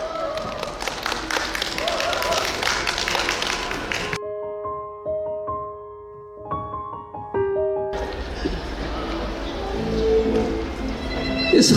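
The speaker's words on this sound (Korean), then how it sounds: "박수로 맞아주십시오." An audience at a spring poetry recitation claps to welcome a reciter: dense, sustained applause gives way to a few held musical tones, then the clapping swells again.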